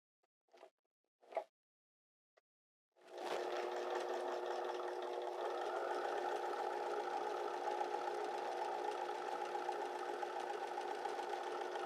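After a few faint clicks and a short pause, a sewing machine starts up and runs steadily, stitching fabric around the curved square neckline of a top with a close, even whirring hum until the end.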